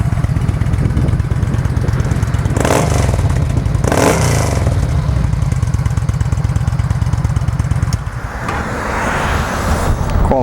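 A used Yamaha V-Star 950 with an air-cooled V-twin engine runs with a loud, steady, throbbing idle, blipped twice with sharp revs, then settles lower near the end.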